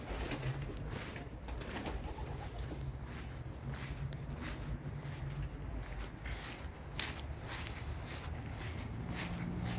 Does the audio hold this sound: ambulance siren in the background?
no